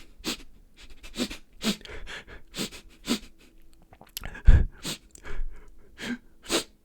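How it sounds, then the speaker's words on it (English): A voice performing small sniffling crying sounds, a series of short sharp nasal inhales and breaths repeated in an irregular rhythm, close and fairly quiet, alone without speech. "we're aiming for sort of more of that smaller sniffling sound."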